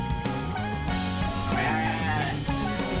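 Sheep and goats bleating at a farm beside a campsite, several wavering, nasal calls overlapping one another at moderate distance, with no talking.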